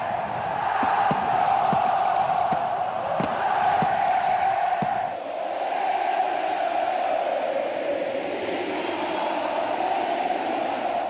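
Huge stadium crowd at a Copa Libertadores football match roars and cheers in a sustained, loud wall of noise, with a few sharp bangs early on and the din swelling and falling slightly.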